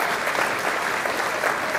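Loud, steady applause from a live audience at a Hebrew-language religious lecture by a rabbi, dense clapping filling the short span without pause.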